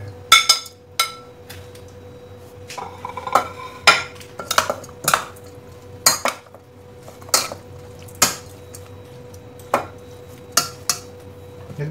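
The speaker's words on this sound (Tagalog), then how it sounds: "Haluin lang natin." Kinilaw na dilis, a raw anchovy mixture with green and red chili, being stirred in a bowl, with irregular clinks and scrapes of a utensil against the dish over a quiet background, close and unaccompanied by talk.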